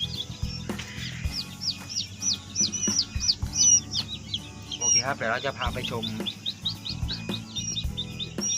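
Domestic chicks and quail chicks at a Thai hatchery cheep in a dense, continuous chorus of high repeated peeps, with someone talking over them and some low rumbling underneath.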